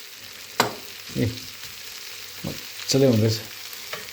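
Meat frying with onions in a pan until dry, a low sizzle running beneath intermittent speech from a person nearby.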